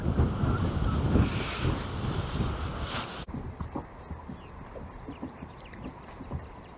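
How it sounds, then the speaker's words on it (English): Strong wind on a lake during bass fishing from a boat, a loud buffeting roar across the microphone with water lapping, then easing to softer gusts and small splashes. "I know you can hear that wind."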